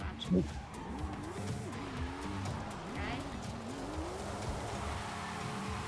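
Car doing donuts in Forza Horizon 5, a steady engine drone with wavering pitch and continuous tire squeal throughout, with people talking over it.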